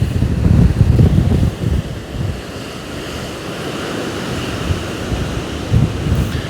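Strong wind gusting outdoors against the microphone with surf-like roar, loud and continuous, swelling in heavier gusts at the start and near the end, with no voices.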